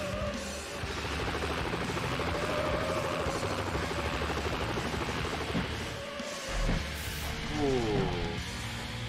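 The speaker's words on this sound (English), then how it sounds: "Oh, that helicopter's scary." Police helicopter pursuing the player's car in Need for Speed: Hot Pursuit 2 (2002), a steady whirring rotor drone mixed with game engine noise throughout, while someone talks over it.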